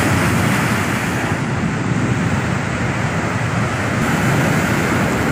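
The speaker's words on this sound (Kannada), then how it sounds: "ಮಳೆ ಆರ್ಭಟ ಒಂದು ಕಡೆಯಾದ್ರೆ ಸಮುದ್ರದ ಅಲೆಗಳ ಅಬ್ಬರ ಮತ್ತೊಂದು ಕಡೆ" Rough sea waves crash continuously along the Karnataka coast during heavy monsoon rain, a loud, dense roar of surf with wind buffeting the microphone and no pauses.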